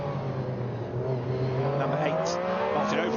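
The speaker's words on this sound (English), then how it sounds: "The Metro 6R4 made that great noise." An ex-Kenwood Metro 6R4 rally car drives a mixed tarmac and gravel super special stage at Goodwood SpeedWeek. Its engine note climbs steadily as it accelerates, heard at moderate distance with no talk.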